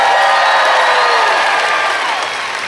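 Comedy club audience at a stand-up special applauding and cheering, a dense steady wash of clapping with whoops, loud and close, fading slightly toward the end.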